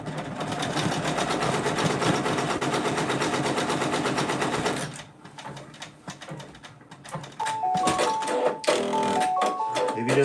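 A Brother Persona PRS100 embroidery machine stitches out a patch design, a dense rapid mechanical chatter that stops about halfway, followed by quieter clicks, knocks and beeping tones nearby.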